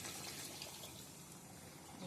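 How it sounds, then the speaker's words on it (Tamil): Water used to rinse a mixer jar is poured into a pan of quail gravy, making a soft, steady gushing wash that stays faint and continuous. "இப்போது நான் அந்த மிக்ஸி கழுவுன தண்ணியை அதில் அப்படியே ஊற்றேன்."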